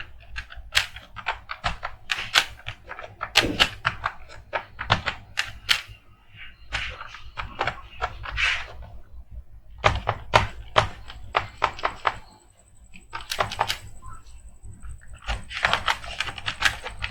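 Typing on a computer keyboard produces irregular bursts of crisp key clicks, close and clear, broken by short pauses, with no speech.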